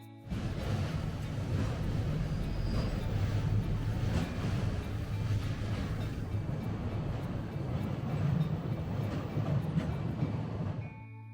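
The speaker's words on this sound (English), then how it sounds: "I did spot a JR Freight Class EF210 hauling a bunch of cargo." A JR Freight Class EF210 locomotive hauls a cargo train past, a steady rumbling roll with low hum and faint rhythmic wheel clatter, moderately distant and continuous.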